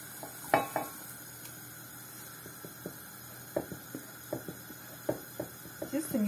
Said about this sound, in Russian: Сейчас будем жарить наши оладушки.